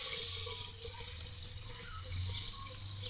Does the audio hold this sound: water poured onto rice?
yes